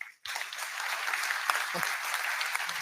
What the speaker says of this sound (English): Give me a round of applause to the panel.